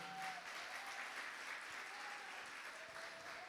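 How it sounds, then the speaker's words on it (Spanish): Church congregation applauding at a Wednesday service, a faint, even wash of many hands clapping at a distance, steady throughout with a faint tone lingering in the background. "Vamos a darle un fuerte aplauso."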